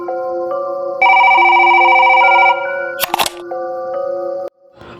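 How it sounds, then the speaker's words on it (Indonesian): An electronic telephone ring with layered steady tones, a brief clatter in the middle, then the ringing continues before cutting off. "5 menit kemudian, telepon berbunyi lagi."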